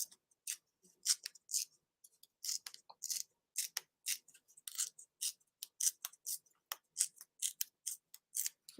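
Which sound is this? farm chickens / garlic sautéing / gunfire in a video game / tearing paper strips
tearing paper strips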